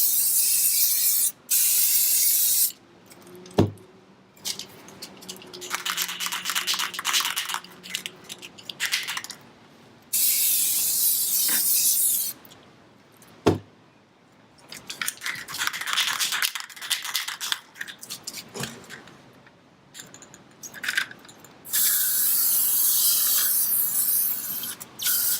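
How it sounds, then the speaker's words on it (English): Spray paint hisses in several loud, sustained bursts across the surface of water for hydro dipping a tumbler with Plasti Dip, separated by brief pauses and occasional sharp clicks or clanks. "I'm going to just spray the surface of the water."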